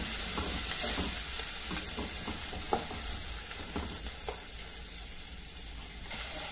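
Onion and garlic sautéing in a pan for chicken lasagna, a steady close sizzle with occasional soft scrapes and taps of stirring, no talk.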